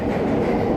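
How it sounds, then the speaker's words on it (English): A Chicago Red Line train pulling out of the Clark and Division stop sends a steady, loud rumble of rail and wheel noise, broadband and continuous through the short moment. "that's the sound of the red line"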